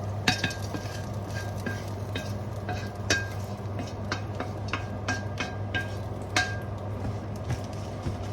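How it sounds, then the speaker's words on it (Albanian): Cooked rice scraped and stirred out of a frying pan into a baking tray, with repeated sharp clinks of a utensil against metal over a steady low hum, moderately close. "prej tiganit tash kthejna orizin në tepsi"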